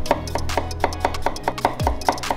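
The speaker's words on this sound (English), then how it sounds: "Let me show you how to cut cucumbers into this ciabatta shape" A knife chopping cucumber on a cutting board, about a dozen crisp, evenly spaced taps in a quick steady rhythm, close and clear, over a faint low hum.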